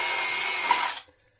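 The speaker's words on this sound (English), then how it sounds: "And then drill the back out" A power drill drills out the back of a hole behind cable trunking, whining steadily and loud up close before cutting off abruptly near the end, leaving silence.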